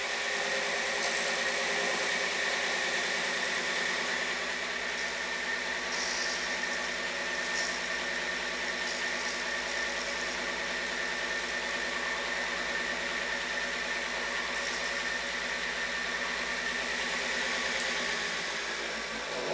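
The motors of a Graviflyer test rig spin steadily with a faint, continuous whir and hum that holds even throughout, with no voices.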